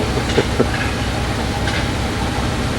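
Two railroad cars coast slowly down a slight grade at Sanbornville, giving a steady low rumble of wheels on rail with a few faint clicks and knocks, heard continuously at moderate distance without voices.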